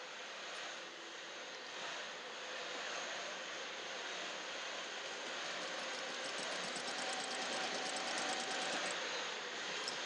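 Sewing machine fitted with a walking foot stitching through thick flannel quilt layers, a steady continuous whirring hum that runs evenly and close without pause.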